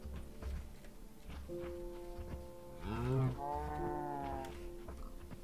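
Cows mooing in Minecraft, a drawn-out low bellow standing out clearly over soft ambient game sounds and faint footsteps.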